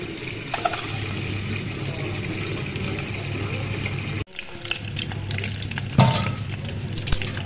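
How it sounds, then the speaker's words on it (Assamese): Eggs fry in hot oil in a pan, giving a continuous close sizzle and crackle with light scraping and clatter from stirring, broken by a brief pause midway, with no speech. "কণীকেইটা ইয়াত ফ্ৰাই হ'বলৈ দি দিওঁ।"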